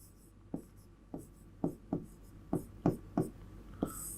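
Chalk or marker writing on a board during a chemistry lesson, a steady series of about eight distinct taps and strokes at a regular rhythm, close and clear, with no talking over it.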